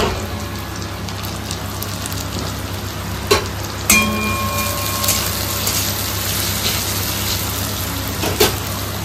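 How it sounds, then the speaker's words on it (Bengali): Onion, garlic, tomato and chili sizzle together in a pan, a steady close crackle with a few brief louder pops and clatters. "এখানে পেঁয়াজ, রসুন, টমেটো, লঙ্কা একসঙ্গে ভাজা ভাজা হচ্ছে"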